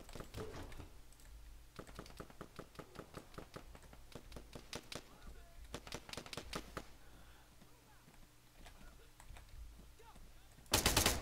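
Arma 3 gunfire from a video game, with rapid bursts of automatic rifle fire rattling steadily at moderate loudness and a sharper, louder burst at the end.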